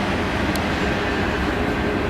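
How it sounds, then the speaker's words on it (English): A train rolls slowly past a lakeside park, a steady broadband rumble and rushing roar that holds constant and fairly loud throughout, without a break. "we have a train going right by the center here, taking its time, it looks like"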